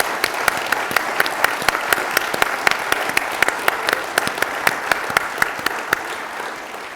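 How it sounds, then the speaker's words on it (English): An audience at a Stanford Historical Society event applauds the university president with steady, dense clapping throughout, sharp individual claps standing out from a full hall. "how about some applause for our president?"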